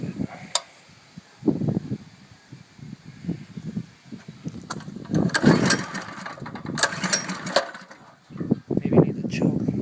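A Predator 212 engine on a mini chopper coughs and sputters through uneven bursts as it tries to catch, then runs roughly and loudly near the listener, with brief pauses between the efforts.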